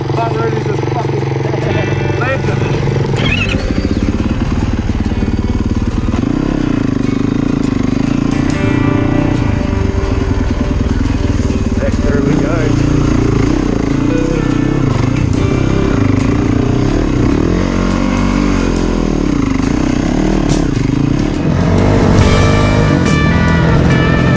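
Honda dirt bikes riding off, engines droning and revving steadily throughout with shifting pitch, loud and close, while a voice talks over them.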